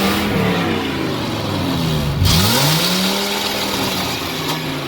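A Ford F450 6.8 V10 engine runs loud and close, its pitch sagging and dipping midway as it loses throttle, then recovering to a steady drone.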